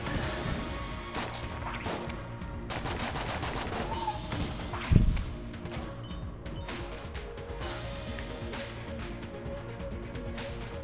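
Bursts of gunfire and grenade blasts in Enter the Gungeon: dense rapid shots crackle almost nonstop over game music, with one heavy explosion punching through midway, loud and close.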